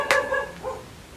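A dog at home gives one sharp bark followed by a softer second yip, close and brief, with nothing else around it.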